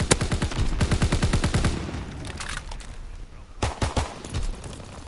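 Rapid bursts of automatic gunfire from a shooter video game, a dense run of sharp shots in the first half followed by a quieter stretch and then a second cluster of loud bangs near the end.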